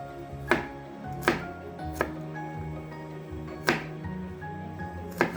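Two garlic cloves being chopped with a knife on a board: five or six separate, sharp, close chops at an uneven slow pace over a quiet kitchen background.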